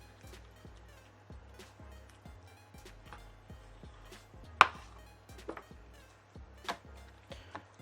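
Rapid, steady knife taps against a cutting board while a whole chicken is filleted, close and fairly quiet, with one sharper clack partway through and no talking.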